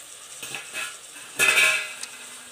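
Spoon clinks and scrapes against a metal pot while tomatoes are stirred into okra soup, a few separate knocks followed by a louder scraping stir, close and without speech.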